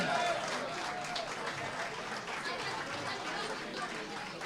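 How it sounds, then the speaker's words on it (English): An audience at a St. Patrick's Day breakfast meeting applauds a band, a dense wash of clapping that is strongest at the start and gradually thins, with crowd voices mixed in. "Can we have a nice round of applause?"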